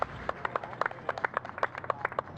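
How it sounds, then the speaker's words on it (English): Scattered handclaps ring out from a golf gallery at the final round of the Valero Texas Open, a light, uneven patter of individual claps that stays fairly sparse and fades by the end. "Smattering of applause"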